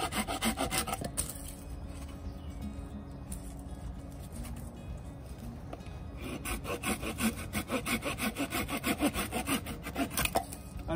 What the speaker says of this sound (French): on va faire des plus petites portions pour alimenter le feu avec la scie pliante